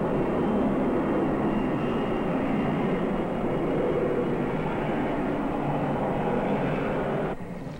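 Airliners departing along the East Coast just ahead of a winter storm: a loud, steady low roar of jet engines with broadband rumble, continuous and close, easing slightly at the very end.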